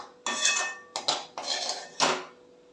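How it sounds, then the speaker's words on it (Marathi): A metal pressure cooker lid is lifted off in a few short clanks and scrapes, close and clear, with brief pauses between the bursts of metal-on-metal contact. "कुकरचं झाकण मी काढून घेते आहे."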